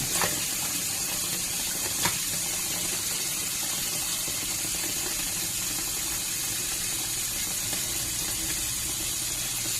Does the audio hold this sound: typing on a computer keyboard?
no